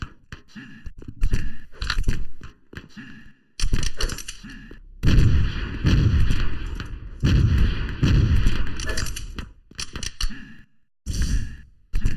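Rocket launcher fire in the arena shooter Open Arena during a competitive duel: a string of loud, punchy blasts and explosions in bursts over about twelve seconds, close and dense, with no talking over them.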